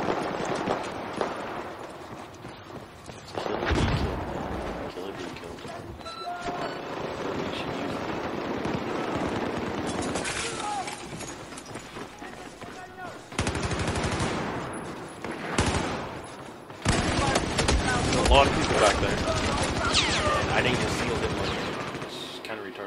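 Bursts of rapid automatic gunfire from a gun in Battlefield 4 rattle on and off for over twenty seconds, loud and close, mixed with distant battle noise, with someone talking over it.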